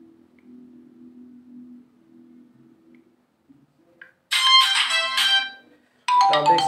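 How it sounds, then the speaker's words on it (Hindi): A Tecno mobile phone ringtone plays in two bright, loud musical bursts after a stretch of faint low hum and near-silence, the tones ringing out clearly with no talking over them. "रिंगटोन पे क्लिक करना है और यहाँ से रिंगटोन चेंज कर पाएंगे"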